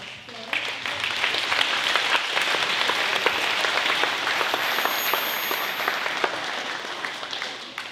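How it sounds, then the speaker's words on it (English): A full round of applause from students at a school spring concert, close and bright with crisp individual claps that build quickly, hold steady and then taper off. "Students, give them a round of applause."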